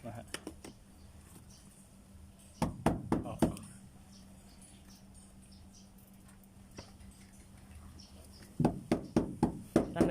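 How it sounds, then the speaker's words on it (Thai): Bursts of quick, dull taps from a hammer working a rubber door seal into place on a 2011 Mazda2 come in clusters near 0.5, 3 and 9 seconds, separated by quieter stretches. "ที่ใช้ค้อนเคาะเพราะว่าถ้าเกิดใช้มือเคาะอย่างเดียวเนี่ยมันจะเมื่อยนะฮะ"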